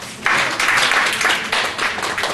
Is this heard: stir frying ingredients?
no